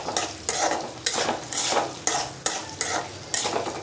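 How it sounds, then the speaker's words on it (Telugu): Food fries in hot oil with a loud, close sizzle, and a utensil scrapes and tosses it in regular strokes roughly every half second. "ఇలా వేపాలి ఆయిల్లోని"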